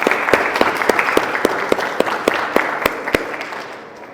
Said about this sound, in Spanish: los invito a darle otro aplauso al maestro